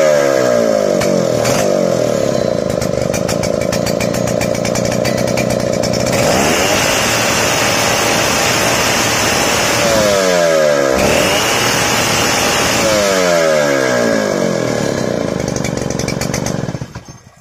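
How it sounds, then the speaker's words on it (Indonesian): A chainsaw engine runs steadily after its carburetor fuel mixture is tuned, a loud, continuous two-stroke buzz with a few revving swells and dips, heard alone with no talk. "Jadi kita bensinnya itu dibikin sedang supaya mesinnya suaranya renyah dan garing."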